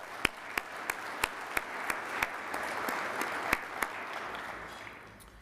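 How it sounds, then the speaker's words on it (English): A keynote audience at a Las Vegas investor conference gives a round of applause, a steady crowd of clapping with a few crisp, prominent claps close by, tapering off slightly toward the end. "So let's give them another round of applause."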